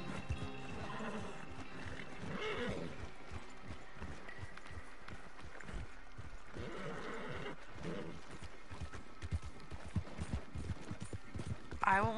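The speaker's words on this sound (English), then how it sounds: "Okay, slow down horse. We have to slow down." In Red Dead Redemption 2, a horse whinnies repeatedly over the rhythmic clip-clop of galloping hooves, with faint voices and other game sounds in the background, ending in a louder burst.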